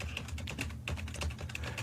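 Fast typing on a computer keyboard during a radio show, a dense patter of close key clicks with a steady rhythm and no voices over it.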